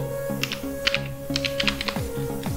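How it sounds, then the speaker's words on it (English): Keystrokes on a computer keyboard as a Linux install command is entered, a quick irregular run of close, crisp clicks over a steady background hum, with no talking. "we will just type in apt get install"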